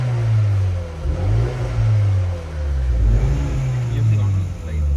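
A two-door MINI car's engine revs as the throttle is pressed, a loud close droning growl that rises and falls in several swells, with a voice speaking over it.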